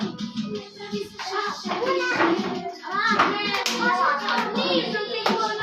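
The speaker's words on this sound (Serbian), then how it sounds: "Aplauz za Stefana Naunovića." A group claps during a game of musical chairs, with children's voices chattering and calling out loudly over the scattered clapping.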